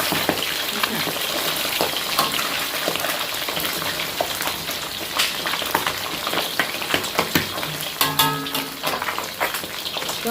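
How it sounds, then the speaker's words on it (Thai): Fish fries steadily in a shallow layer of oil, a continuous loud sizzle and crackle with scattered pops, and a few scraping stirs of a utensil near the end. "จะทอด ไปอีกสักพักนะคะ ให้ด้านล่างนี้เหลือง"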